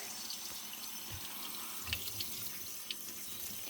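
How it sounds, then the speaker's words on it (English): Cool tap water runs steadily over cut potatoes sitting in a colander, a soft continuous splashing rinse with occasional small drips and knocks, close by and with no voices. "We are now rinsing them off in cool water."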